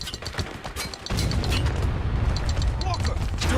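Mortar fire in the Spec Ops: The Line video game comes as a heavy booming blast that jumps in partway through and rumbles on beneath a dense, chaotic battle din.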